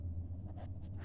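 Chalk or marker strokes on a classroom board during a maths lecture, a few short scratchy bursts over steady low room hum, fairly faint and without talk.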